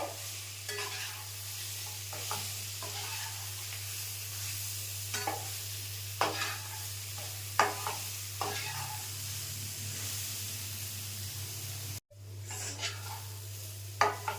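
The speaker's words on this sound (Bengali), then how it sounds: "এটা ঢিমে আছে, বেশ কষাতে থাকবো, বেশ লাল লাল হয়ে যাবে।" Soybean ghugni masala is stirred and sautéed over low heat in a pan, with repeated scraping strokes of a spoon over a soft continuous sizzle and a low steady hum, no voices.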